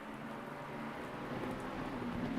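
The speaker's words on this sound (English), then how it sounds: "The rain is really treacherous, especially first couple of laps while we try to get a dry line formed." Steady rain on a wet Nurburgring in a sim racing game, a continuous broadband hiss holding even and moderately loud throughout, with a low engine drone beneath it.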